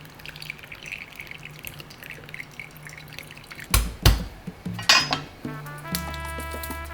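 Homemade red enchilada sauce made with oregano, white onion, salt and pepper being strained, heard as liquid dripping and running through a strainer alongside sharp metallic clanks of pots and utensils, growing busier toward the end.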